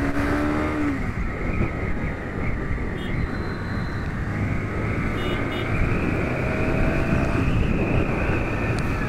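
Motorcycle at full throttle with the helmet visor open, a steady loud roar of engine and wind rushing past, constant and unbroken throughout.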